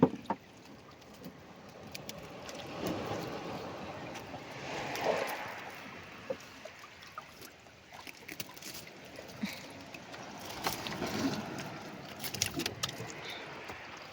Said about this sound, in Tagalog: Yung hampas ng alon, ganda pakinggan.